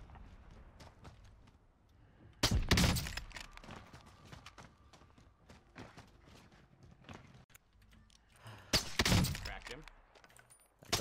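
Gunfire in the video game Warzone: two loud, sharp sniper-style shots roughly six seconds apart, each standing out over a low background of in-game ambience and light movement.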